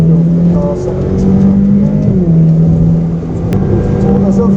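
A torquey, smooth-running car engine accelerating on a track drive day, a loud close droning hum rising and falling in pitch as it pulls through the revs, heard from inside the car.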